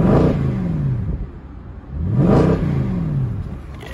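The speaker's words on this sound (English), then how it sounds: "that naturally aspirated V8 sounds awesome" A 2008 Mercedes C63 AMG's 6.3-litre naturally aspirated V8 revs twice, each blip rising sharply to a loud snarl before the pitch falls back toward idle, close up.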